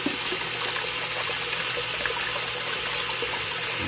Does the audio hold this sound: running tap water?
yes